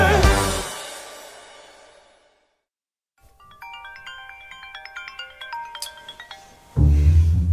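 A telephone ringtone plays a bright, repeating electronic melody of short beeping notes, clear and alone, after a fading sound and a moment of silence, then cut off by a louder burst at the end.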